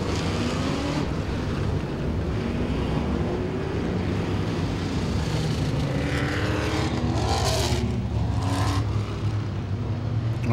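Modified race cars at Langley Speedway roar around the oval in a continuous loud drone, engine pitches sweeping up and down as the pack passes, with wind buffeting the microphone throughout.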